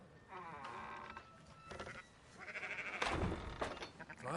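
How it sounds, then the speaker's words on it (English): Sheep bleat in Red Dead Redemption 2, several wavering calls from a flock at moderate distance, fairly faint and mixed with other ambient game sounds. "Fine sheep."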